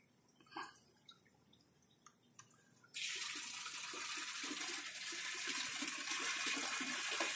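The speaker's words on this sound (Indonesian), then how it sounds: "Misalkan kita ingin menjalankan keran air." A smart-controlled water tap in an urban farming setup opens with a sudden rush, then runs steadily and loudly, after a few quiet clicks and drips.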